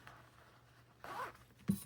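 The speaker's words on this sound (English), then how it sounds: "so now here's my zipper" A clothing zipper on a sewing project tunic is handled up close, with a soft rasping pull about midway and a brief sharp tug or clack at the end, in a quiet room without speech.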